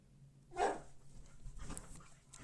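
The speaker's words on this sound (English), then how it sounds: "One of my dogs is going off a little bit." A dog barking in a room, one sharp bark followed by softer yips and whimpers, moderately distant and alone without talk.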